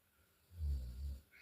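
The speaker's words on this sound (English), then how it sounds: "Somebody is snoring." A person snoring, one low rumbling snore that swells and fades in two pulses, faint and close.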